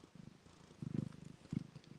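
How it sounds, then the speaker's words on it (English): A cat named Idabelle purring close by, soft low rumbling pulses that swell in a few louder bursts, with no voices over it. "She's purring. Can you hear her purring?"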